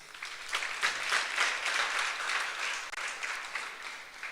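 An audience at a youth seminar claps for a councillor, a short burst of dense, lively applause that holds steady and then gradually eases.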